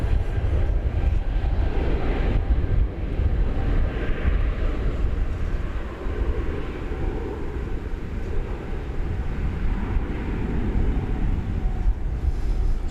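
An airliner departing DFW Airport for London, a broad steady jet roar at moderate distance that holds throughout with slight swells, no talk.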